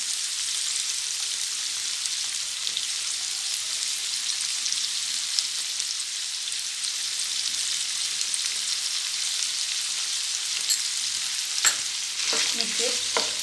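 Ivy gourd (tindora) frying with salt and red chili powder in a pan hisses in a steady, loud sizzle, with a few scraping stirs near the end.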